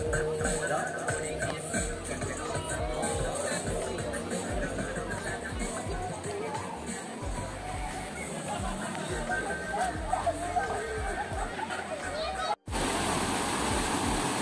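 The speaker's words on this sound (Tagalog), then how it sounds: "Lakas ng agos, di ba?" Strong, rushing water current at a cold spring resort pours continuously in a dense roar, with faint background voices of people nearby and a brief cut near the end.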